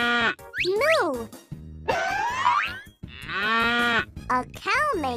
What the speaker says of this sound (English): A cow makes a moo sound.